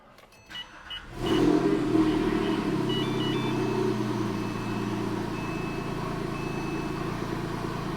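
A Porsche 911 engine, freshly fitted with new spark plugs, cold-starts with a sharp crank-and-catch after a short quiet stretch, then settles into a loud, steady, slightly raised idle close by, with a faint electronic beeping above it.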